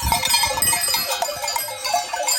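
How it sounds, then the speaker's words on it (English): A flock of goats in the Alps, heard as a busy jangle of bells with scattered bleats and rustling hooves, close and continuous with no talking. "Monsieur Chen and his flock of goats showed up"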